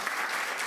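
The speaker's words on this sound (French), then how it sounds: "On peut vous applaudir pour cette présentation." An audience applauds after a scientific presentation on air quality and health in the workplace, a steady, dense wash of clapping filling the whole moment with no voices over it.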